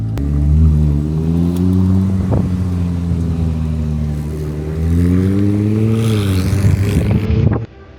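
A Ferrari 296 GTB V6 hybrid sports car drives past close by, its engine a loud, steady drone that rises in pitch mid-way and drops off abruptly at the end, with some wind noise.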